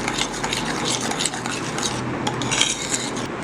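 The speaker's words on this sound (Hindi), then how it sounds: "ये सारा मैं इसमें ऐड कर दूंगी और इसको अच्छे से मिक्स कर लूंगी" A spoon stirs coriander powder and salt into a veg dum biryani mixture in a pot, a steady close scraping and clinking that runs without a break under a low background hum.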